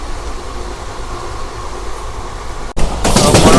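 Superfast special express train running at speed from Charlapalli to Tirupati, a steady loud rumble heard from inside a general coach, which jumps to a harsher, louder roar near the end.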